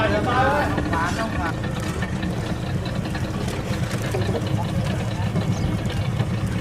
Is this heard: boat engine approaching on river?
yes